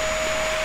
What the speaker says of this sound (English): Let's vacuum outside.